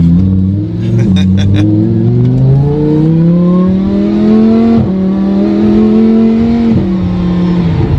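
A car engine, still cold, revs up close and loud, its pitch climbing steadily in smooth rising sweeps, then briefly dropping between gears before climbing again.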